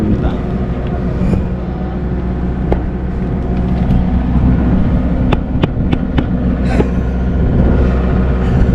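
A boat's engine runs steadily with a low, continuous rumble on a crossing toward Lubang Island, Occidental Mindoro, with a few sharp clicks and people talking nearby.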